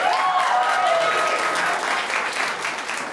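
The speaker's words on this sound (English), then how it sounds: "Can we get a round of applause for my roommate?" Audience at a stand-up comedy set breaking into a round of applause, dense clapping that starts strong and gradually thins out, with a brief faint voice near the start.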